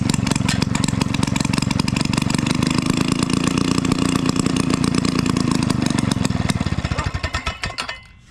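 An old Maytag 72 two-cylinder washing machine engine fires up on a little choke and runs with a rapid, loud popping putter for several seconds, then sputters and dies away.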